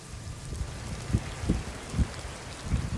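Steady heavy rain falls in Dharashiv district, a soft continuous hiss with scattered heavier drops tapping nearby.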